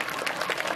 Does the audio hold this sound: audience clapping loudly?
yes